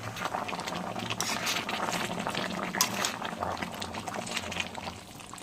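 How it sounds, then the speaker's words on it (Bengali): Hot water is poured little by little into mutton kosha cooking in a pan, giving a soft, steady sizzle and bubbling with small splashy pours, fairly quiet and without speech. "এবার আমি এর মধ্যে একটু একটু করে গরম জল দিচ্ছি"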